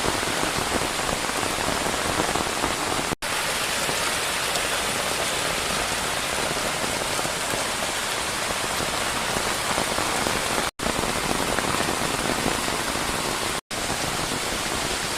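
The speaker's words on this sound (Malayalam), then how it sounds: "അത്രയ്ക്കും വലിയ മഴയാണ് ഇപ്രാവശ്യം പെയ്തതെന്നാണ്" Heavy monsoon rain falls steadily on surfaces near a house, a loud unbroken hiss of dense drops that keeps the same level throughout.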